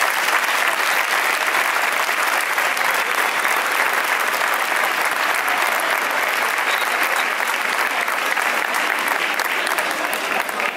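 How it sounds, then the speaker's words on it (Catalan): Loud, sustained audience applause at a Canals 2024 hoguera bonfire festival: dense continuous clapping from a large crowd, steady and close for the whole stretch. "un fuerte aplaudimiento, por favor."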